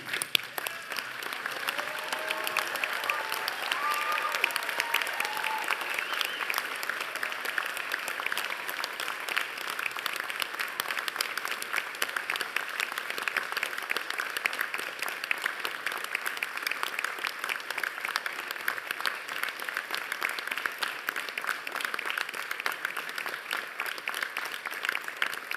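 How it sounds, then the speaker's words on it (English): An audience applauds graduates at a University of Newcastle graduation ceremony in Australia, a steady, dense wash of many hands clapping that holds at an even level throughout, with no voices standing out. "join me in applauding the wonderful achievement of our students"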